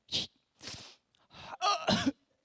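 A voice imitates coughing from strong ginger ale bubbles, giving about four close, harsh cough bursts separated by short pauses, the last ones loudest.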